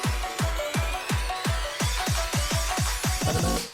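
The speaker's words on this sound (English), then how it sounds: "I used the Protoss reverb on the background of the plucks just to get a cool vibe" Repeating synth plucks with a reversed, Protoss-style reverb washing behind them, a steady fast rhythm over deep thumping low hits, loud and with no voices.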